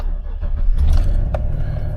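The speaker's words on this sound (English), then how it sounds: "we'll check once we start the car up" A 2012 GMC Savana van engine cranks and catches, a low rumbling start that settles into a steady idle, close and loud, with a brief click partway through.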